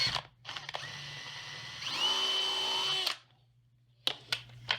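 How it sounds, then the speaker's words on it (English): A power drill with a medium-sized bit whines steadily for about a second, its pitch sliding as it bites, then stops; brief clicks and taps follow, close by. "I'm now going to get a medium-sized drill bit."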